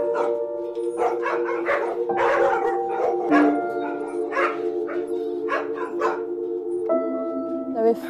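Several dogs on a dog meat farm in South Korea bark, yip and whimper in repeated overlapping bursts, close and loud, with a steady tone underneath.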